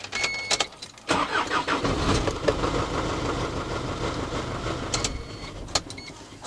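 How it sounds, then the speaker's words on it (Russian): A used Japanese truck with 150,000 km on it cranks briefly and catches almost at once, then settles into a steady, close idle that runs on to the end, with a few clicks over it. "С полоборота заводится."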